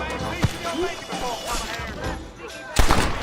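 Pistol shots in Red Dead Redemption: a sharp shot early and a louder cluster of shots near the end, over game sounds and someone talking.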